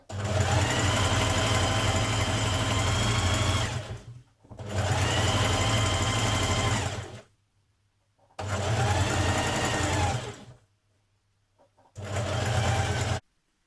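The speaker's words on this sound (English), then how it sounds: "Stitch your side seam." Sewing machine stitching the side seam of a Burda 6315 sweatshirt, loud close whirring in four sustained runs of several seconds each, separated by short pauses, no talk.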